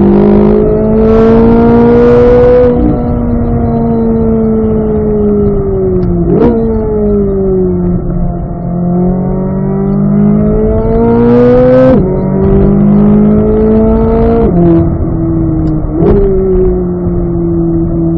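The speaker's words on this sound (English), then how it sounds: "So mostly so you guys can hear the exhaust." Chevrolet C8 Corvette Z06 fitted with an AWE exhaust accelerating hard, loud and close, its engine note climbing through several gears with sharp shift breaks between rising pulls, no talk over it.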